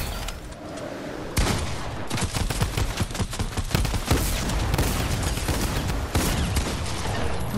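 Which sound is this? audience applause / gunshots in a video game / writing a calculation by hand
gunshots in a video game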